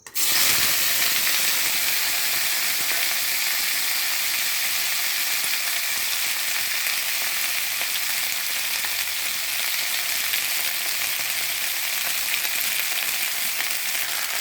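Chopped ivy gourd frying in hot oil in a wok, a loud, steady hiss and crackle of sizzling that runs unbroken from start to end, close up with no talk.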